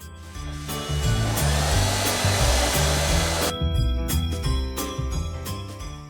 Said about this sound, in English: now I'll dry it with the hairdryer.